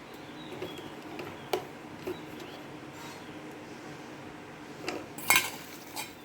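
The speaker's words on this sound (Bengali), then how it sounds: "এই ছাতুটাতে নুন আর হলুদ মাখিয়ে নিচ্ছি।" Mushrooms being mixed by hand with salt and turmeric in a bowl, with soft squishing and scattered clinks and knocks of the bowl, one louder clatter near the end.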